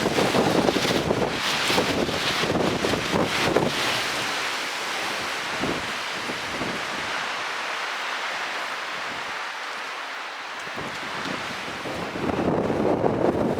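Steady wind roars across an open microphone beside a loch on the Isle of Skye, with a broad rushing hiss and gusty buffeting that rises again near the end; water surges faintly underneath.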